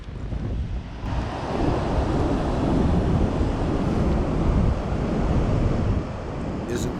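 Ocean waves roll in at the North Jetty in Ilwaco, Washington, a loud continuous surf roar swelling and easing, mixed with gusty wind buffeting the microphone.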